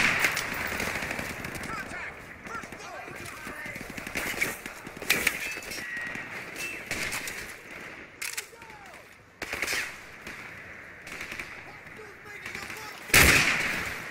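Gunfire in Call of Duty: Modern Warfare Remastered rattles through a long firefight, with bursts of automatic fire, single sharp cracks and one loud blast near the end, while voices and ambient noise sit underneath.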